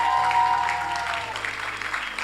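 Convention audience applauding young participants from Coquimbo, a steady, moderately loud wash of clapping running the whole time, with a low tone fading out partway.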